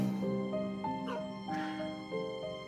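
Dogs in an indie video game give a short run of yips and whimpering barks, close and fairly clear, with no talk over them.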